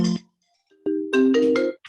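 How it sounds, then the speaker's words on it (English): A telephone rings during a city council public safety meeting, with a short electronic tone, a pause, then a longer sustained warbling ring, loud and close. "Ringing."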